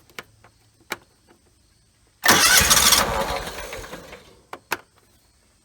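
John Deere X320 lawn tractor with a 22 HP Kawasaki engine and a new starter, a few faint clicks, then a loud close burst of cranking that catches and fades down over a couple of seconds, followed by a few sharp knocks.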